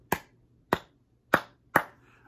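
Four sharp, separate hand claps sound close and alone in a quiet room, evenly spaced in a simple rhythm for a choral exercise, each with a crisp attack and a short decay.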